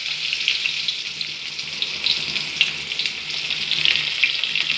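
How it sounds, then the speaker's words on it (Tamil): Mustard seeds and chopped onion frying in hot oil in a pan for a stingray fish curry, a loud continuous close-up sizzle with a steady crackling hiss. "கடுகு பொரிஞ்ச உடனேயும் நம்ம வச்சுருக்க இந்த வெங்காயத்தை போட்டுடலாம்"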